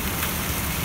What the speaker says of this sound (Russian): Идет сильнейший дождик